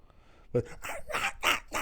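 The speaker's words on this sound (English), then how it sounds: "It's the dog starting to whine in the background." A family dog whining and yipping in the background, short high whimpers mixed in with someone talking over them nearby.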